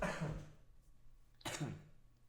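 A person gives two quiet cough-like throat clears a second apart, close to the mic in an otherwise silent room.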